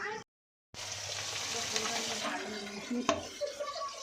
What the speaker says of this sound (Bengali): পাবদা মাছ ভাজছি